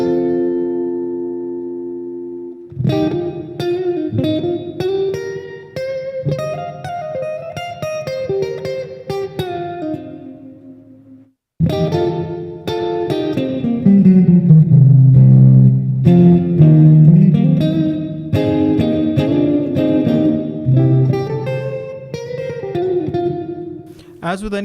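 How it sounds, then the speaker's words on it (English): Electric guitar through a Boss Katana 100 head with the hall reverb engaged plays two sustained, ringing phrases separated by a short break, each chord and note trailing into a long, spacious wash; no voices. "And finally you have the hall reverb."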